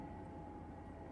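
An airplane passes overhead as a steady, low, even rumble that holds for about a second with no talk over it.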